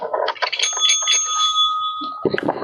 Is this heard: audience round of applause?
no